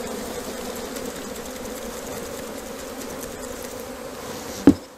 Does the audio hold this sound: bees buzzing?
yes